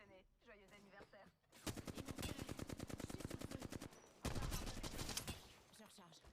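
Rapid automatic gunfire in a shooter video game match, two sustained bursts of fast rhythmic shots, loud and close, with a quiet gap between them and brief talk at the start.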